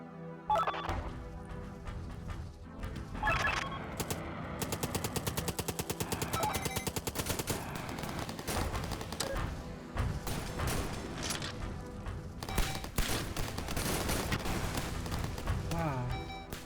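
Missiles firing in the video game Gearbits, rapid dense bursts of repeated shots and impacts in quick succession, loud and continuous under a talking voice.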